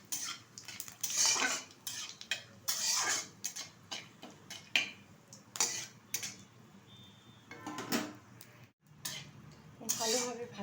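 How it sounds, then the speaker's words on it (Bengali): Cumin seeds, torn dried red chillies and a torn bay leaf fry in oil in a wok, heard as busy clattering and scraping of a spatula against the metal with faint sizzle, close and continuous. "তেলের মধ্যে দিয়ে দিচ্ছি কিছুটা গোটা জিরে, কয়েকটা শুকনো লঙ্কা মাঝখান থেকে ছিঁড়ে দিয়েছি, দিয়ে দিচ্ছি একটা তেজপাতা মাঝখান থেকে ছিঁড়ে।"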